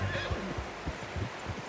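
A horse whinnies near the start, then hooves clip-clop in a steady rhythm, fairly faint and close, over a low ambient hum, in the video game Red Dead Redemption 2.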